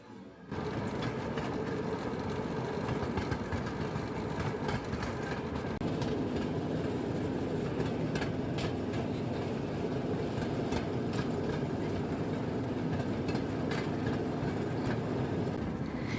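A continuous rumbling, clattering railway draisine running on rails near marshland in Belarus, engine drone and wheel noise steady throughout without pause.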